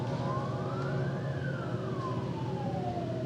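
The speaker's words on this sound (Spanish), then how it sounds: "¿Cómo gozan los policías tocando sus sirenas?" A police car siren in Venezuela wails in one slow rising-then-falling sweep, fairly near and steady over a constant low traffic rumble, with no voices.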